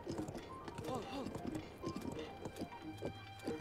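Horse hooves clip-clop at a steady trot in The Legend of Zelda: Breath of the Wild, rhythmic and close, running beneath a person talking throughout.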